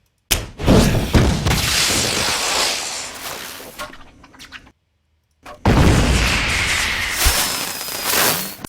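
A film explosion effect, booming and broadband, sustains with rumbling debris for several seconds, then cuts to sudden silence before a second loud blast of roaring noise sweeps in and fades.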